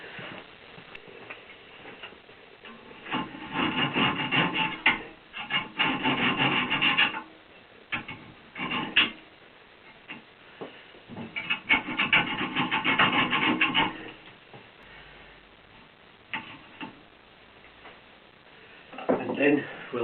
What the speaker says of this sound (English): Now I need to get the rubber off, so I'm going to cut through that with the hacksaw.